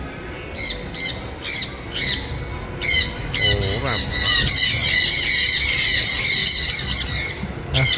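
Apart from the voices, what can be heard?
parrot squawking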